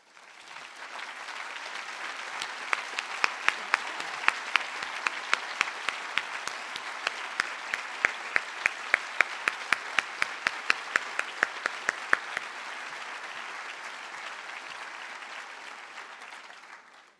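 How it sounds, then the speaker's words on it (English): Sustained audience applause at a medal day ceremony, a broad wash of many hands clapping at a steady level, with a few sharper nearby claps standing out. "please stand so we can applaud you"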